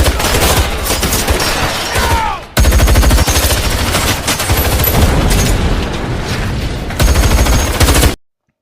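A heist shootout between guards and robbers in a film erupts as dense, loud bursts of rapid gunfire and booming shots, nearly continuous, with a brief gap before the barrage resumes and then cuts off.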